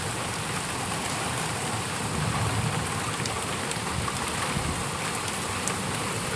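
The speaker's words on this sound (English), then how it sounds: "This is a very welcoming rainstorm" Steady, dense rain pours down without a break, with a faint low rumble of thunder underneath; no voices.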